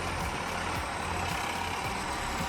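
A logging truck churns through thick mud hauling a heavy log trailer, its engine a steady, rough, rumbling labor heard at moderate distance without any talk.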